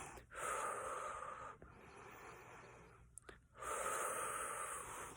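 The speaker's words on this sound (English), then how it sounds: "Deep breathing, deep breathing." Deep, slow breaths drawn in and pushed out in long, airy cycles, close to the ear and soft, with brief gaps between each inhale and exhale.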